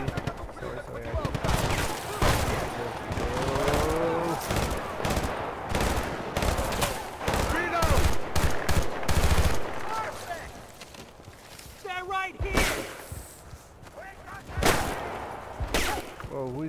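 Rapid gunfire from Battlefield Bad Company 2, dense bursts of automatic shots repeating throughout, mixed with a player talking over the action.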